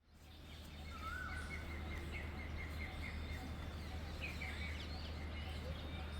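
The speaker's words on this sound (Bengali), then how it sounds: "দূর থেকে পাখির আওয়াজ আসছে একটা" Distant birds call at dawn in the Uttarakhand mountains, several faint chirps and short whistles scattered over a quiet, steady background hush.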